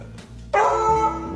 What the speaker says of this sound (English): You barking at me already?